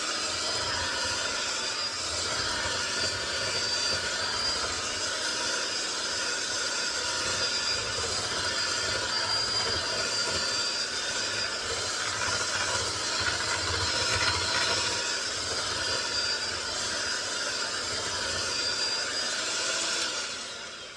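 A handheld electric mixer beats pound cake batter in a home kitchen, a steady, loud, continuous motor whir that runs unbroken for the whole stretch with no talking.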